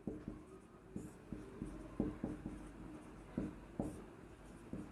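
Pen or pencil writing out a maths solution by hand on paper, a series of soft scratching strokes and taps in irregular bursts, close and fairly quiet, with no talking.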